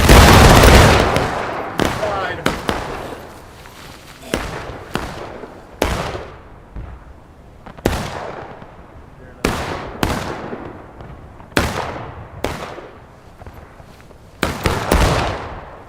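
Musket volleys from an infantry line in a Civil War video game set in the Manassas campaign: sharp, loud cracks with echoing tails, first a massed volley and then scattered independent shots every second or two, with a shouted command near the start.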